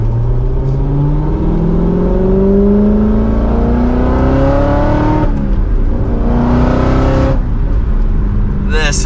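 A Chevrolet Corvette C7 Z06 revs hard and climbs through the gears, its rising whine dropping briefly at each shift, loud and close.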